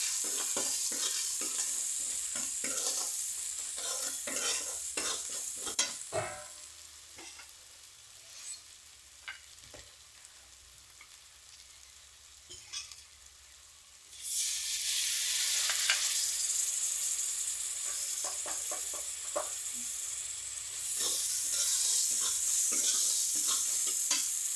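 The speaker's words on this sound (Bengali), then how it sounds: "এবার আমি মশলার সাথে কষে নেব।" Pumpkin sautéing with turmeric, coriander and chili powder in a pan, a steady sizzle broken by repeated scraping stirs, growing louder and hissier partway through; no voices.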